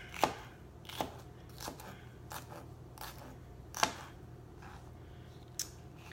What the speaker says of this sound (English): So we're chopping up the veggies.